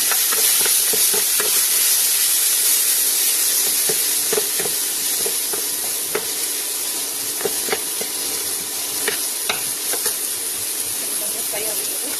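Onions and tomatoes frying in a pan give a loud, continuous bright sizzle and hiss, broken by scattered crackles and the clicks of stirring, with someone talking over it.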